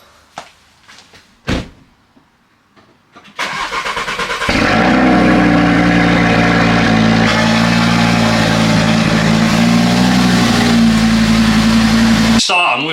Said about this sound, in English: RS3 exhaust, cold start in my garage on a Sunday morning